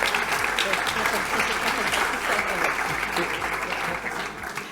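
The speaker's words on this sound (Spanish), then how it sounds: "Aplauso para él también, por favor." Audience applause at a public policy forum on educational technology, a dense, steady wash of clapping lasting several seconds at a fairly loud level.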